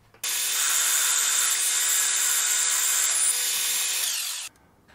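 Metal lathe taking a 1 millimetre cut on a workpiece starts up and runs as a steady, loud, bright whir for about four seconds before stopping abruptly.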